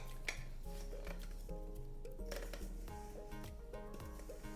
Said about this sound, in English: let me scoop my filling in it